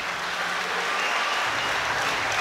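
Audience applause at a world classic powerlifting championship, dense steady clapping from a large crowd filling the hall without a break.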